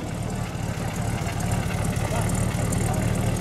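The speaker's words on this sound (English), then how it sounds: "There's the exhaust note there, nice and quiet." A 1932 Buick Model 32-96S Country Club Coupe idles with a steady, quiet, low exhaust rumble that holds evenly throughout, heard alone without talk.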